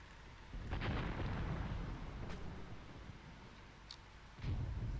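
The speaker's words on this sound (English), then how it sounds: "Okay, that might be from the mortar strike" Distant mortar strike explosions in the war game Graviteam Tactics, set in the Second Battle of Kharkov: deep, rumbling booms that swell early on and strike again near the end over a steady low roar, with no voices.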